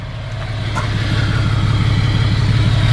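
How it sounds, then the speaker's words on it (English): Exhaust of an emissions-deleted 2013 Ram 3500 fitted with a Flow Pro system, idling low: a steady, loud, deep rumble heard up close, with no voices. "Here is the exhaust at low idle"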